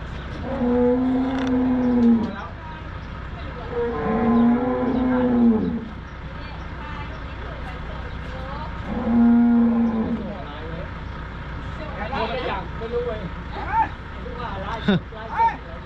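Charolais and Brahman beef cattle low and drawn out in a pen, three long moos spaced several seconds apart, with other farm noise and voices between and after them.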